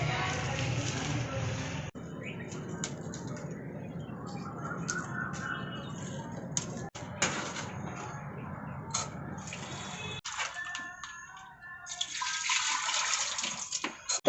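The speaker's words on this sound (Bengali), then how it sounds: "তো মিষ্টি ফল ফুল এগুলো এখন ধোবো গা আমি" Fruit, sweets and flowers being washed under running water at home, a steady splashing and trickling stream that runs throughout, with brief breaks and a brighter, harder flow near the end.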